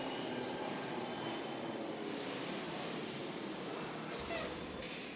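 A train arrives in the horror video game The Happyhills Homicide 2, a steady rail rumble and rolling hiss that holds at even loudness throughout, with no talk over it.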